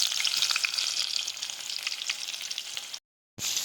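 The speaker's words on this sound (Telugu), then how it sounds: "కలుపుకుంటూ వేయించుకోవాలి." Thinly sliced onions frying in oil with fenugreek, cumin and mustard seeds, giving a bright, dense, steady sizzle close to the pan, briefly cut to silence near the end before the crackling resumes.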